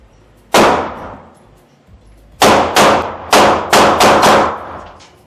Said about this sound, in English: And I'm gonna keep shooting.